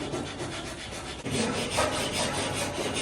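A widebody panel on a Ford Ranger is shaved down by hand, a continuous rough rasping and rubbing that runs steadily and close with a brief pause midway.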